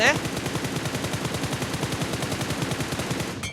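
Automatic gunfire in the mobile battle royale game PUBG Mobile, a steady fast rattle of shots lasting about three and a half seconds, loud and close, then stopping abruptly.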